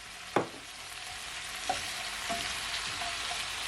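Tomato drops into a hot pan of frying cabbage stir fry, giving a sharp splash of sizzle followed by a steady crackling fry with a few smaller pops and stirs.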